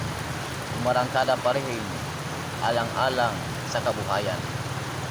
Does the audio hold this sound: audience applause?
no